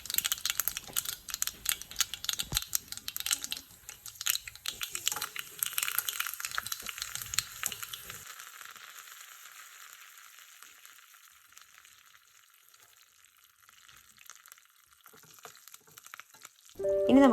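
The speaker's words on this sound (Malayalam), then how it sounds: "ഇനി ഇതിലേക്ക് കടുകും കുറച്ച് ഉലുവയും കറിവേപ്പിലയും വറ്റൽമുളകും ചേർത്ത് കൊടുക്കാം." Mustard seeds, fenugreek, curry leaves and dried red chili crackle and spit in hot oil, a dense busy popping that is loud at first, then thins to a soft sizzle before a final clatter.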